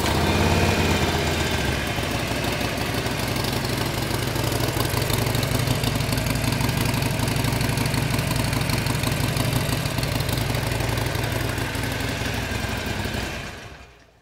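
A Harley-Davidson Sportster motorcycle engine idles steadily and loudly up close with a throbbing, uneven low rumble, running continuously before cutting off abruptly at the end.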